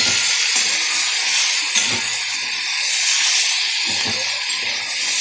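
Dried red chili and bay leaf tempering in hot oil, a steady loud broadband hiss and sizzle that holds evenly throughout with no voices over it.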